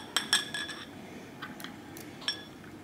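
A metal spoon stirring powdered milk into tomato juice in a small bowl, giving a few light clinks against the side in quick succession, then a lone tap after a short pause, all close and fairly quiet.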